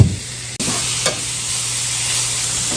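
Sliced mushrooms dropped into a pan with browned garlic and flour burst into a loud steady sizzle after a sharp clank, with a brief stir scrape, close and continuous.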